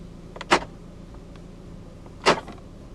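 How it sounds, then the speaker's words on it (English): Central locking on a 2015 Volvo V40 1.6 D2 hatchback actuates twice, each a short sharp clunk about two seconds apart, heard up close inside the quiet cabin. "Electronic central locking."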